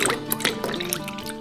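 Half a liter of 33% cream is poured from its carton into a bowl, a close, steady liquid gush with soft dripping and gurgling throughout and no talking.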